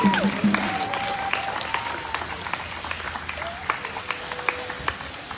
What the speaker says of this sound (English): Go ahead and give him another round of applause.